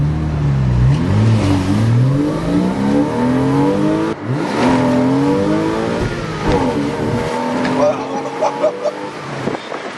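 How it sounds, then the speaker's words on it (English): A Porsche 986 Boxster S with its intake snorkel deleted roars through repeated rising revs, the engine sweeping up in pitch several times, loud and close, with people talking over it. "Yeah, the intake, you can hear the intake pretty well."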